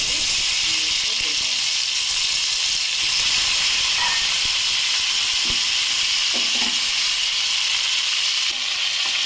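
Chilies, bay leaf and tomato fry in a hot pan with a loud, steady sizzle and hiss that runs throughout, plus a few faint clinks and stirs and brief background voices.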